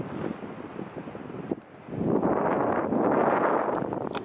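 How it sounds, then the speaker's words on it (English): Strong wind buffets the microphone at an outdoor lookout beside a walking trail, a steady rushing roar that swells louder after a brief lull and keeps blowing without speech. "Hopefully that wind's not too terrible."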